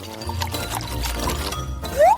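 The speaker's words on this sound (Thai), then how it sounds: "งั้นเธอเทน้ำมันใส่ลงไปนะ" Cooking oil is poured into a vase as part of a Mentos experiment, a close, continuous liquid pour with a brief rising tone near the end.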